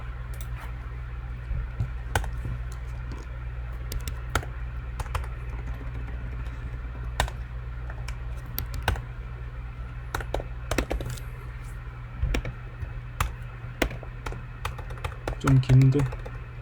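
Code being typed on a computer keyboard during a C programming lesson: steady bursts of light key clicks with scattered louder taps, over a low background hum, with a faint bit of talk near the end.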